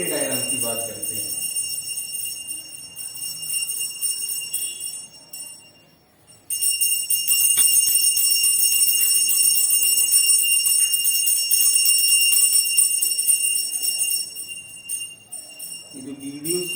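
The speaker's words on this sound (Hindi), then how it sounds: "तो आपको ये पूजा की घंटी सुनाई देगी" A puja prayer bell rings steadily in the morning, a bright sustained metallic tone that carries on for most of the stretch with one brief dip, while a person talks faintly underneath.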